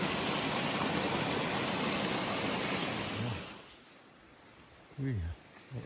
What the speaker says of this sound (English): The water's rolling pretty good.